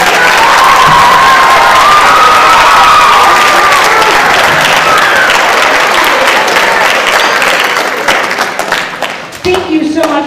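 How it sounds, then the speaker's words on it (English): An audience at a middle school band winter concert applauds the 6th graders, loud sustained clapping with some cheering that tapers off near the end, where a voice begins. "How about a round of applause for all of our 6th graders?"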